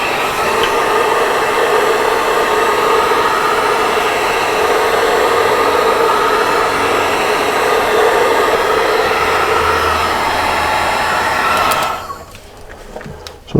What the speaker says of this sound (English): I've been warming it up a little bit with my heat gun